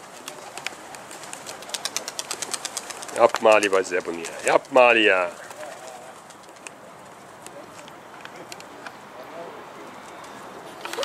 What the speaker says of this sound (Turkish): Kuşlar uçuyor.